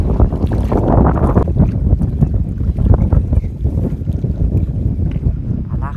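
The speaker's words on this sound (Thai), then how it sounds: "ก็จะมีเสียงลมบ้างก็ ขออภัยด้วยนะครับผม" Strong wind blowing across open water ahead of rain during fishing with a bamboo rod, a loud, continuous buffeting roar battering the microphone throughout.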